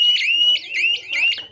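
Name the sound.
GSM shutter siren alarm sounding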